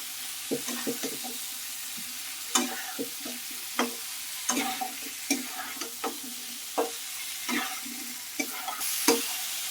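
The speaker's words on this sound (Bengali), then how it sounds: "লাউটা দিয়ে ভালোভাবে কিন্তু একটু মিক্স করে নেওয়া হয়েছে মিনিট খানিক সময় ধরে" Diced bottle gourd stir-fried in a pan: a quiet sizzle broken by repeated scraping clinks of a spatula at an irregular rhythm, with no talk.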